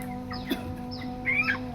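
A chicken clucks in short, close bursts during halal slaughter training, a few rising squawks over a steady low hum, with no talking.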